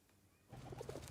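Pigeons coo softly in a TV drama scene, a short burst of low warbling calls that begins suddenly after a quiet moment and runs to the end.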